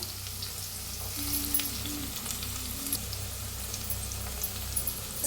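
Chopped onion fries in hot oil with cumin in a pan, giving a steady close sizzle with brief crackles throughout and no talking.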